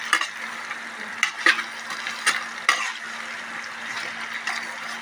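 Spices for a pickle being fried and stirred in a pan, a soft steady sizzle broken by several sharp scraping clicks of a spoon against the pan, close by and with no talk.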